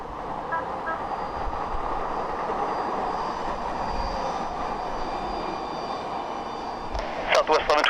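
An airplane takes off from runway 27 at San Diego, a loud, steady engine roar heard from nearby, with a few squeaky sounds near the end.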